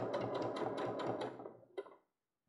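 A sewing machine stitches a zipper onto a pouch in a fast, rattling run of needle strokes, close and steady, then slows and stops with a final click before silence.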